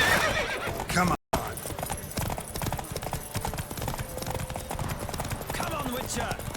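Rapid galloping hooves pound continuously during a horse race in The Witcher 3: Wild Hunt, with a horse whinnying near the start, a brief dropout, and people shouting over the racing.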